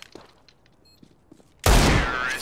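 A single loud gunshot in CS:GO bursts in suddenly after a stretch of quiet game ambience, with a broad blast that rings on until the end.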